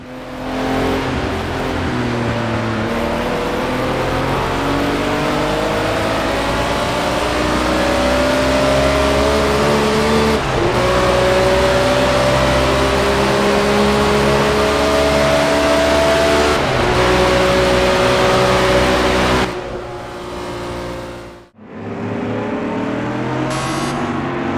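Race car engine in Project Cars 2 gameplay, loud and continuous, with rising and falling revs through gear shifts for about twenty seconds, then a brief dip and near-silent gap before the engine roars back.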